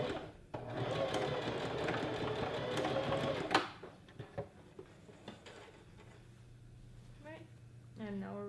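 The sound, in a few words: sewing machine stitching pieces of a knife-pleated skirt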